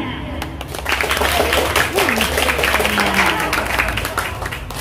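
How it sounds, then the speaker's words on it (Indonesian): An audience at a school arts performance claps for a group's act, steady mixed applause over crowd noise with voices chattering and calling out through the clapping. "Ibu minta tepuk tangannya untuk penampilan tadi ya, kelompok 1 ya"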